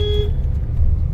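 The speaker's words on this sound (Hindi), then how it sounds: "तो गाड़ी प्रस्थान हो गई है ऋषिकेश की तरफ" Car interior on the road toward Rishikesh, with a low rumbling engine and road noise and a brief faint horn toot at the start.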